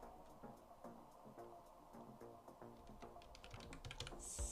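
Typing on a computer keyboard while writing HTML: steady, rapid key clicks at close range in quick uneven bursts, with no talking.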